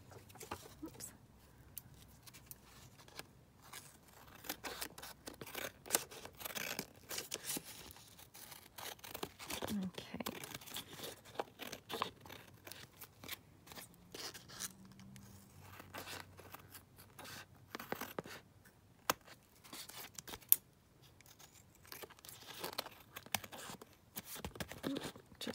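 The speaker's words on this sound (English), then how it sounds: "I'm just going to trim around the edges." Scissors trim background paper for handmade journal cards, giving faint, close snipping and rustling of paper with soft talking at times.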